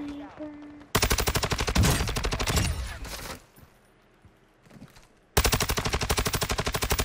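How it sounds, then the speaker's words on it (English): Rapid automatic gunfire in the battle-royale shooter Warzone, loud sustained bursts near the listener, a quieter stretch with distant scattered shots, then another long burst of rapid fire. "I heard shots over to my left"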